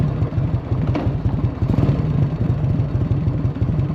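A 1984 Harley-Davidson FLT Tour Glide engine idles close by with a steady, loping rhythm of pulses and a light mechanical valve train clatter riding over the low drone.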